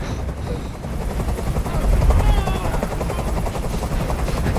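Steady rhythmic thudding of a helicopter hovering close by in the video game Detroit: Become Human, loud and continuous, with rotor chop filling the whole stretch.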